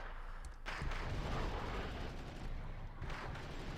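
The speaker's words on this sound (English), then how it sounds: "the Buratino fire finally paying off" Buratino rocket artillery fires in the video game Wargame, deep rumbling blasts and booms layered over continuous low battle noise, with two sharp bursts standing out.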